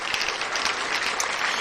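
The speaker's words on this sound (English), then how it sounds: "Let's give Miss Luki some finger snaps and some hand claps." A small group gives steady applause to welcome a guest, with hand claps and finger snaps making a dense, even patter that goes on throughout, with no talking.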